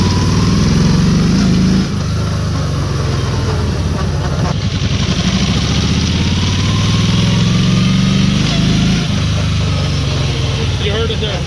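A Kawasaki Vaquero motorcycle accelerates in second gear while the transmission kicks out. The close engine drone drops abruptly near two seconds and again near nine, then wavers and recovers.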